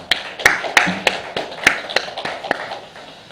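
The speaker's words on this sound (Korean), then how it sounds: "하나님께 영광의 박수를 드리도록 하겠습니다" A church congregation gives scattered applause after a hymn, with a dozen or so sharp, separate claps spaced irregularly rather than merging into a dense ovation.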